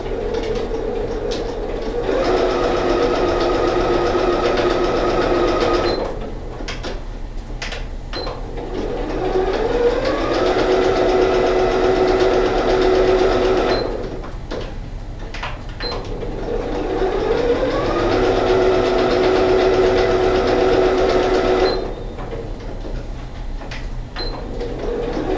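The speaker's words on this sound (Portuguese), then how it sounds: "vamos lá pra máquina. Aqui, eu só vou passar a costura." A sewing machine stitches around a 10 by 10 fabric patch with slightly larger lining, running in three steady mechanical bursts separated by pauses where the fabric is turned, with a faint hum throughout and no talk.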